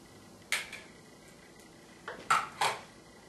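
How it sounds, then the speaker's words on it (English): Ladle clinking against a plate while packaged gravy is spooned onto a hot beef sandwich, a few faint, sharp metallic taps in a quiet kitchen, one early and a quick cluster of three near the end. "I'm just going to ladle on my packaged gravy that I've already made on the stove for you"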